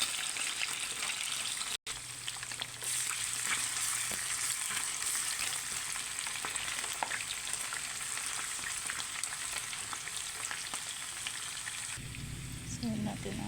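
Garlic fries with pork ribs in a pan, a faint continuous sizzle and crackle running steadily throughout with a few small pops and a brief break near the start.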